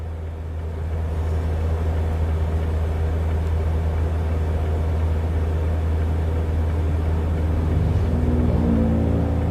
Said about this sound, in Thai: ขออนุญาตเร่งเครื่องแล้วกันเนอะจะได้ไวขึ้น